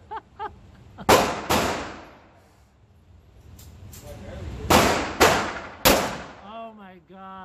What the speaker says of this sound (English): You're just shooting through a hole.